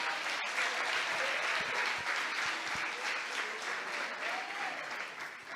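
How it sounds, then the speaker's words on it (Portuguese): A church congregation applauds steadily throughout, a dense wash of many hands clapping at an even level that holds for several seconds. "Você pode aplaudir ao Deus da Bíblia?"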